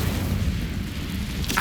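An Incendio fire spell cast in a Harry Potter video game, a brief, dense rumbling whoosh of flame that sustains loudly and evenly throughout, heard alone.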